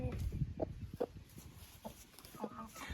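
A hen clucks quietly nearby in a backyard flock, with a few soft, spaced clucks over low background noise.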